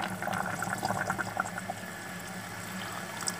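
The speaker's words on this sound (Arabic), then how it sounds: "انا رمينا البطاطا ونمرقوها بشويه ماء سخون، شويه ماء" Hot water poured into a pot of simmering sauce over potatoes for a lamb and bulgur dish, giving a close, steady watery splash and bubbling that tapers off toward the end.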